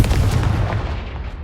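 A Confringo fire spell from the Hogwarts Legacy video game bursts out as a loud, dense blast that rumbles on and fades over about a second and a half.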